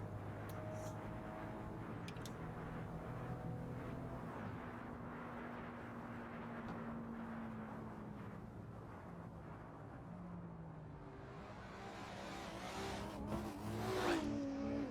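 A car drives along a road toward a Japanese highway in the late evening: steady engine and tire drone from inside the cabin, its pitch rising and falling with gear changes, then a louder push near the end.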